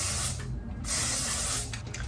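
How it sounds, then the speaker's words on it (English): Great Barrier heat protecting hair spray misted from a can in two steady, close hissing bursts, with a brief pause between them and no talking. "first things first is we want to spray our Great Barrier Heat Protecting Spray"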